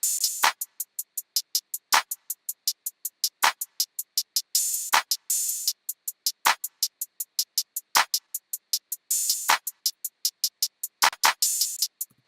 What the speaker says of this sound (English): We've got open hi-hat, so I'll add that in.